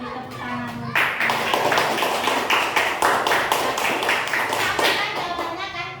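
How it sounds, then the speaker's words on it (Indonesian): A classroom of students claps together, distinct rhythmic hand claps in a fairly quick, uneven beat that starts after a short pause and continues steadily, close and clear. "Oke, beri tepuk tangan."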